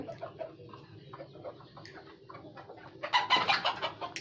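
Native country chickens in a poultry flock being treated for cholera and salmonella cluck softly in short broken calls, building to a louder, denser burst of clucking near the end.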